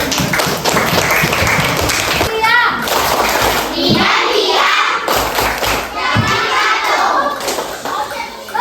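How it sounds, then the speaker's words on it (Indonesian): Children in a classroom clap together, loud and close, with thumps and overlapping kids' voices through the burst of applause. "Tepuk tangan dulu."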